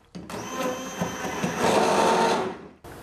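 Blender whipping a chocolate vegan ice cream mixture with ground nuts and coffee, a loud continuous whirring drone that rises in intensity midway before cutting off.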